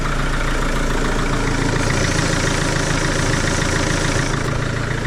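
A 2006 Mercedes Vito van engine idles steadily and close up with a new fan belt fitted, a loud, even mechanical hum with no belt squeal and no talking.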